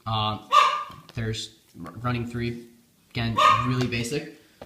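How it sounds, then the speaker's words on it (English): Sharp barks from a pet dog at home break in between phrases of ongoing speech, loud and close. "Sorry, if you hear a dog barking,"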